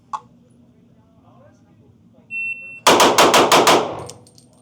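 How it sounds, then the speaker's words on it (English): Rapid pistol shots from a Staccato C4X race gun on a shooting range, six sharp, loud cracks fired in quick succession, two rounds on each target, preceded by a shot-timer beep and brief talk. "2 rounds on each target."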